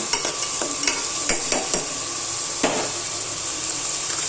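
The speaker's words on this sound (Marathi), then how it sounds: "आता कांदा टाकलेला आहे हे सगळं चांगलं आहे ना परतवून घ्यायचं आहे" Onion, garlic, green chilli, turmeric, mustard seeds and cumin are sautéed in hot oil for dal tadka. A steady close sizzle runs throughout, with sharp ladle scrapes and taps against the pan and no talk.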